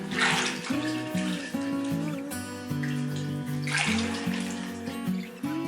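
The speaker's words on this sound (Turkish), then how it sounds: "Şeker soğuyunca damacanaya ilave ediyorum." Cooled sugar syrup being poured into a large carboy for homemade fig spirit, a steady continuous gurgling water stream close by with no talking.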